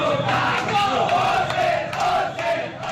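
A large, angry crowd including Indonesian nationalist militia chants loudly and continuously in rhythmic shouts, a dense roar of many voices at a street protest against Papuan students.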